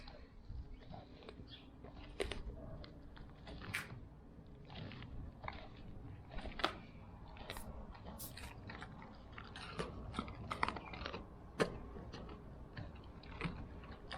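Blue Bay Shepherd wolf dog crunching and chewing raw chicken up close, irregular wet bites and bone cracks continuing steadily, faint and without talk.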